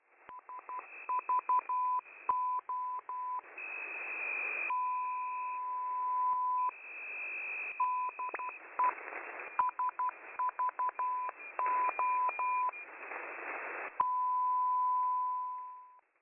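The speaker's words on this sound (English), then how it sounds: "This is a Morse code beacon that sends DE-SVO repeatedly with a 2-second carrier between each Morse group" A Morse code beacon on 8424 kHz sending DE-SVO: bursts of steady beeping tones alternating with two-second unbroken carrier tones, repeating over and over through static.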